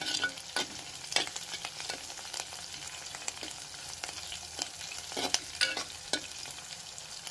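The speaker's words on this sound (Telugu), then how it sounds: "కొంచెము పచ్చిమిర్చి వేగనిద్దాము." Green chillies sizzle and crackle in a hot pan for Bombay chutney, with steady frying under repeated scraping stirs at close range and no talk.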